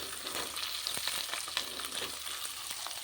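Chopped onions and green chillies frying in oil for tomato upma give a faint, continuous crackling sizzle broken by a few light stirring scrapes, with no one speaking.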